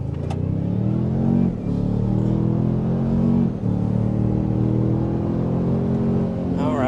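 A 2025 Toyota Sequoia SUV accelerates hard, its engine droning and rising steadily from inside the cabin, with two brief dips as it shifts gears, loud and continuous throughout.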